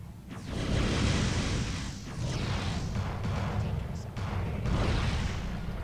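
A full missile salvo launched in the space combat game Star Fleet Command, a dense, sustained roar of rumbling launches and whooshing blasts that fills the whole stretch, loud and continuous with small surges.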